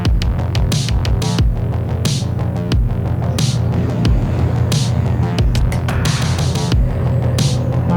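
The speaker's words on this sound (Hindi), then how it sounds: "अब आप देखिएगा इसका परफॉर्मेंस ये किस तरह से भागती है गाड़ी" TVS Raider 125 motorcycle accelerating hard in power mode through fourth and fifth gear at around 80 km/h, a loud, steady engine throb with a rising drone and strong wind rush, no talking.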